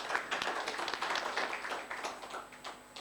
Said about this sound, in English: Let's clap for these young people.